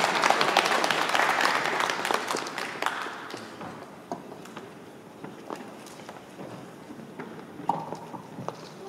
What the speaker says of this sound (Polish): No to czas na brawa.